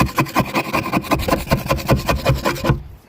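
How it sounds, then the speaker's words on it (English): A plastic trim panel removal tool scrapes glued carpet off a hatch floor during an EVA flooring install, making rapid, loud, close scraping strokes in a steady rhythm that stops just before the end. "To scrape the carpet off, I'm going to use this tool."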